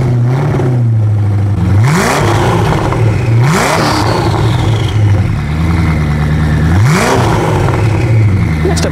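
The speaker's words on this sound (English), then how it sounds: "it would be a crime to shoot a video with the Koenigsegg and not film a couple of engine revs" Loud Koenigsegg Agera RS1 engine revs, three sharp rising bursts that climb and fall back to a throaty idle, close by with steady rumble between.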